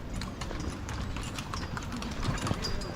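Horse hooves clip-clop on a road, a steady run of sharp knocking steps over light outdoor background noise, moderately close, with no speech.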